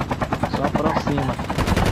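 Dense, rapid video game gunfire rattles without pause, bursts overlapping into a continuous volley, with a voice speaking briefly underneath.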